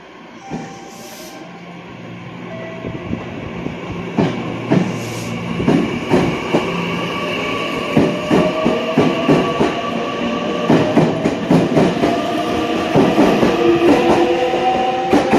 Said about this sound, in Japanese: 3番線から電車が発車します。